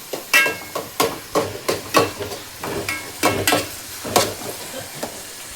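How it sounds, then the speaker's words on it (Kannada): Onions frying in a pan for egg bhurji, a steady sizzle broken by repeated loud scrapes and stirs of a spatula at a quick, uneven rhythm, close and alone with no talk. "ಈಗ ಉಳ್ಳಾಗಡ್ಡಿ ಆನಿಯನ್ ಫ್ರೈ ಆಗ್ಯದ."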